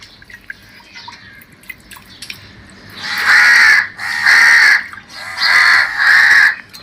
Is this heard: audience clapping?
no